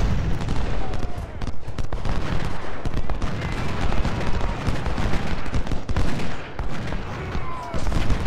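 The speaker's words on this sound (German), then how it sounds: "Damit die Kanonen da immer weiter auf die Leute schießen." Battle of Shiloh in the Ultimate General: Civil War strategy game: dense, continuous cannon fire and volleys of musketry boom and crackle without pause, a loud, layered battlefield roar.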